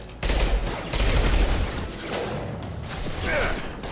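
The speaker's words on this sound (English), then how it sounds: "Taking fire." Gunfire in a Mass Effect sci-fi shooter, loud bursts of rapid automatic fire with mechanical clanks and rattles, rising and falling over a few seconds.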